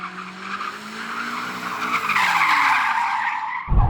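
A 2021 BMW M5 skids in circles, its tyres squealing loudly and continuously as the engine note rises and falls close by, ending in a sudden thump.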